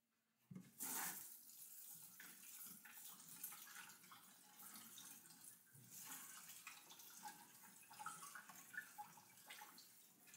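Water running steadily from a kitchen tap for washing while cooking grilled cheese, switched on with a splash and then flowing continuously with faint splashing as items are rinsed, close and fairly quiet.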